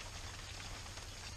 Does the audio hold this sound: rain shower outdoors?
yes